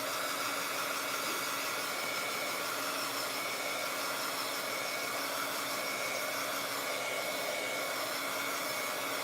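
A hair dryer blows steadily and close throughout, a constant whooshing motor hum while drying freshly painted half beads for a beach-themed craft.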